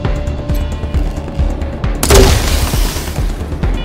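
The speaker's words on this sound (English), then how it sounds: "we can get Mr. Musk, though, to shoot him" A single sharp gunshot cracks out in the Wasteland 3 video game midway through, loud and close, over a low rumbling game soundscape with faint rhythmic thuds.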